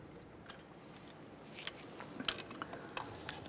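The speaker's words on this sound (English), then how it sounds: "Install our compressor tool." Metallic clicks and rattles come from a brake caliper piston compressor tool being fitted onto the front brake of a 2008-2012 Honda Accord, with scattered sharp ticks and light scraping close by.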